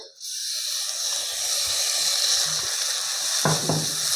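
Onion lightly frying in a pan for a green chickpea and paneer sabji, a loud continuous close sizzle that swells after a quiet start, with a few soft stirring knocks near the end.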